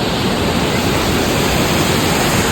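Johau Falls in Victoria Park, Truro, Nova Scotia, pours out a constant broadband rush of falling water, loud and steady with no breaks.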